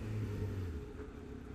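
A 2006 Suzuki GSX600F Katana motorcycle pulls away in traffic, its engine note rising briefly and then settling into a fainter, steady rumble with road noise, with no voices.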